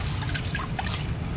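Water trickles steadily from a free spring drinking-water source in Barangay Motag, Malay, Aklan, a close, continuous burbling flow over a low background rumble.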